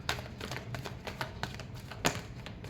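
Tarot cards being shuffled produce a run of crisp, close papery clicks and snaps in an irregular rhythm, with one sharper slap near the end.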